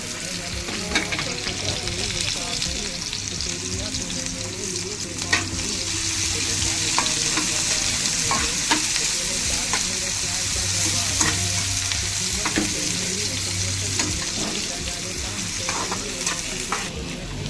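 Chopped onion fries in oil in a pan for a Konkani dried-shrimp kolim dish, giving a dense, steady sizzle with occasional spatula scrapes and taps, close and continuous, with no talk.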